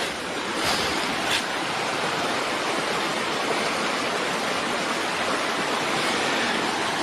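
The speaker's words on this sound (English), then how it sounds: "Here you can see some of the water." Water flowing through an old dug trench bordering rural property, a steady broadband rush like a stream or small fall, continuous and fairly loud throughout with no talk.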